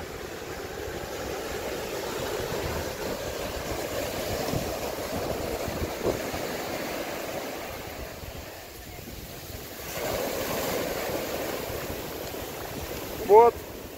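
Pacific Ocean surf washes in continuously along Jacó Beach, Costa Rica, a broad steady rush with wind buffeting the microphone throughout.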